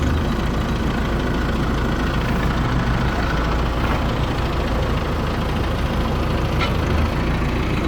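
A heavy diesel engine of a 2012 MTZ-82.1 tractor idles steadily and loudly, a constant low rumble with no talking.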